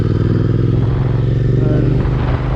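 An Interceptor 650 motorcycle climbs a steep hill road, its twin engine droning loud and close with a steady throbbing rumble and light rattles.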